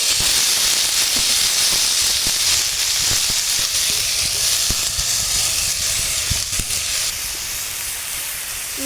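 Rice is added to hot oil with turmeric and sizzles loudly and continuously, with a close, dense hiss and frequent light clicks from stirring, easing slightly toward the end.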